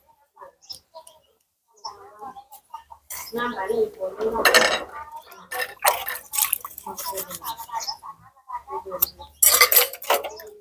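Dishes, pots and cutlery being washed by hand with tap water, with irregular clinks, clanks and splashes near at hand, some louder clatters, and brief voices in between.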